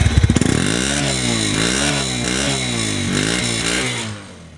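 A Suzuki GD110 motorcycle with 18,000 km on it fires up on its self starter with a brief cranking whir, then settles into a steady, close, loud single-cylinder idle with light revving before cutting off at the end.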